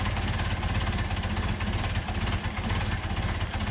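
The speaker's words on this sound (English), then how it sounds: "Let's see if this is going to run without the choke." A Mercedes 190SL engine on Solex 44PHH carburetors idles with the choke off, a close, loud, steady lumpy rumble with even pulsing throughout and no talk.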